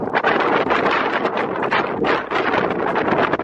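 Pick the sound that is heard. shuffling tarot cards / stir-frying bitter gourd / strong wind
strong wind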